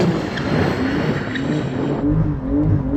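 A Porsche 911 accelerates hard with its tyres spinning, a loud, steady engine roar with rising pitch that holds throughout without a break.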